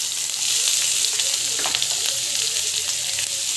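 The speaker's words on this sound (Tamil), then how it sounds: "நல்லா வந்து வதக்கிக்கோங்க" Onions sizzle steadily while sautéing in a hot pan, a close, continuous crackling hiss with occasional stirring scrapes.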